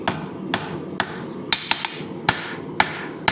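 Hand hammering on the tip of a hidden-tang hunter knife being forged, with sharp metallic strikes landing at an uneven rhythm of roughly two per second, loud and close with no talking.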